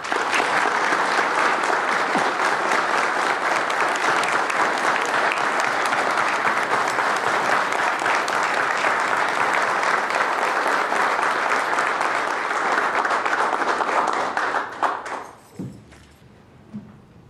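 A sustained round of applause from a City Hall gathering honoring a deceased mayor, loud dense clapping for about fifteen seconds before tapering off into near silence with a few last claps.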